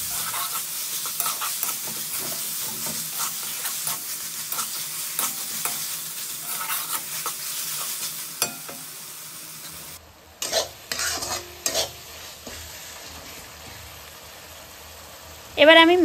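Pointed gourd, shrimp and tomato frying in a pan and stirred, a steady sizzle with repeated scraping strokes of a spatula, followed near the end by a brief burst of louder sizzling and a clatter.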